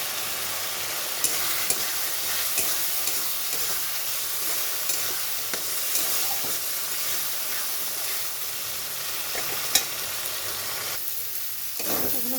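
Gobindobhog atap rice frying with spices in a pan gives a continuous close sizzle and hiss, with light scraping and occasional clicks from stirring throughout and no talking.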